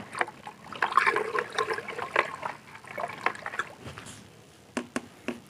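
Clean water trickles and splashes into a gold recovery solution made from scrap mobile phone and computer circuits, diluting it with uneven pouring and dripping that tapers off into a few separate drops.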